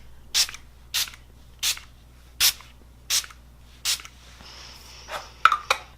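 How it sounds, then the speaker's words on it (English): Six short, evenly spaced spritzes from a makeup setting spray bottle, close and crisp, followed by a couple of quicker bursts and faint rustling. "I like the spray on this better."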